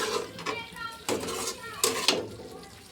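A spoon stirs cauliflower with half a glass of water in a pan for a spiced garlic dish, giving several scraping clatters against the metal, loudest around the middle and near the end.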